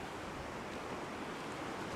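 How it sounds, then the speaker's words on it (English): Small waves wash in on a beach during a reef fishing outing, a steady, even surf hiss with no distinct breaks, moderately loud and constant throughout. "There's a few little waves coming in here every now and then."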